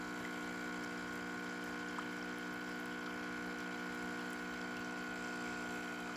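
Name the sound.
DeLonghi espresso machine new water pump flowing through group head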